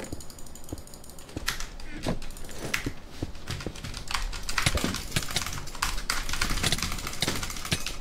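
Rapid computer keyboard typing during a Minecraft session, with dense clicking keystrokes in irregular bursts close to the microphone, continuous across the stretch over a faint background hum.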